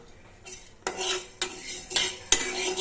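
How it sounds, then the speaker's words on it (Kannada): Chana dal, urad dal and chillies roasting in a pan, with four sharp metal spoon strokes against the pan at a roughly even pace over a faint background sizzle. "ಕಡಲೆಬೇಳೆ ಒಂದು ಸ್ವಲ್ಪ ಹುರಿಬೇಕು ಮತ್ತು ಉದ್ದಿನಬೇಳೆ ಒಂದು ಸ್ವಲ್ಪ ಹುರ್ಕೋಬೇಕು ಮೆಣಸಿನ್ಕಾಯಿ ಒಂದು ಸ್ವಲ್ಪ ಉರಿಬೇಕು"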